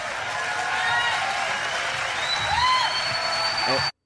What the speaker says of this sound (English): Look at this group of people absolutely losing it, clapping.